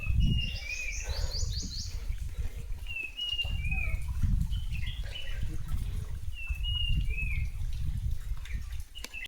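Birds call in short, repeated chirping phrases over a steady low rumble of wind or flowing water at Pavan Khind, fairly faint and spread through the clip.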